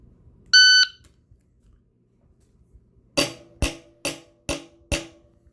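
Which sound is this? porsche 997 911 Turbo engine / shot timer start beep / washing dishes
shot timer start beep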